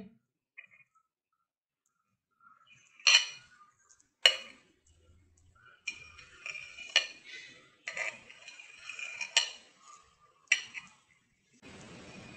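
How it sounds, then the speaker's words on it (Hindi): Homemade jelly being cut into pieces for a fruit trifle, heard as a series of knife taps and clicks against a plate or board, quiet and close, spaced irregularly with no talking. "और जेली जो हमने अपनी तैयार कर ली थी, इसको भी हम पीसेस में कटिंग कर लेंगे"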